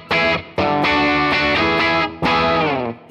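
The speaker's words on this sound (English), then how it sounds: "I love the feedback of you know, when I'm on the bridge pickup and I really slam it hard." An electric guitar on the bridge pickup, played through a Fractal FM3 Morgan AC-20 amp model, rings out loud and distorted in several sustained chords with sharp attacks and brief gaps between them.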